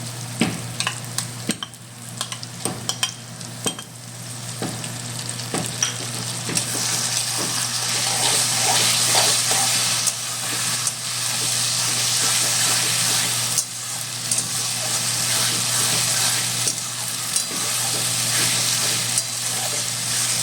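Onion with ginger, garlic and green chili paste, cooked for a mutton curry, fries in a pan with a constant close crackle and hiss, punctuated early by sharp spatula taps and scrapes and later by steadier stirring.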